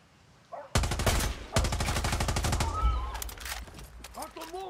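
Rapid automatic gunfire in the Far Cry 6 video game, two close, loud bursts followed by lighter scattered shots, with brief chirping sounds in the gaps.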